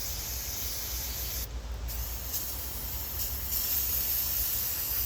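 Aerosol brake cleaner or carburetor cleaner is sprayed onto a chainsaw mill guide, producing a loud, continuous close-up hiss that breaks off briefly once and then resumes, with no speech.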